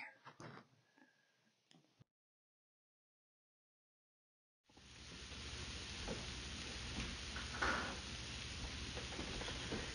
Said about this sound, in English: you can actually hear the sizzling in that